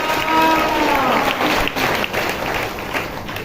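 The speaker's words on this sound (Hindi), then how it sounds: "ताली बजा के परमेश्वर का धन्यवाद करो" A church congregation claps hands in thanks, a dense continuous patter of many hands with a voice heard briefly near the start.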